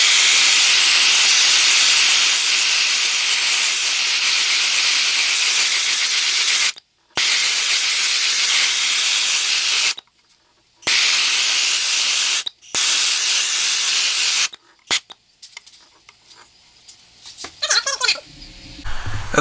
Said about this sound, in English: Actually, I'm going to torch it now.